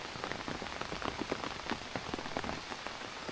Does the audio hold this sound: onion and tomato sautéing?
no